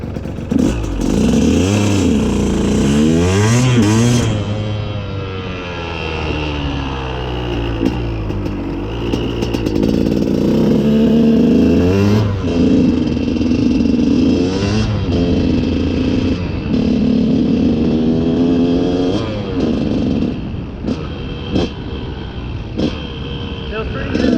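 A freshly built KTM 200 SX two-stroke dirt bike engine runs loud and close during break-in, its pitch rising and falling through repeated throttle blips and revs over a steady idle.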